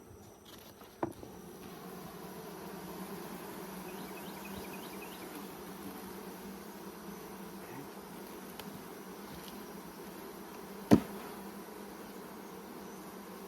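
Africanized honey bees in an opened hive box hum with a low, steady buzz throughout, with a couple of sharp knocks of the box, no talking.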